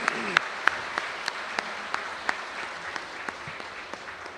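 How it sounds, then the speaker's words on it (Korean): Audience applause at a North Korean Defectors' Day commemorative ceremony: a soft bed of many hands, quiet and somewhat distant, with crisp individual claps striking out at a fairly even beat throughout. "네, 박수 보내주시면 감사하겠습니다."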